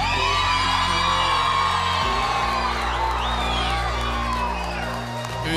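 A crowd at a Geelong United Kardinia event whoops, yells and cheers loudly and continuously as a vote, with shouted voices over a steady roar that dips slightly near the end.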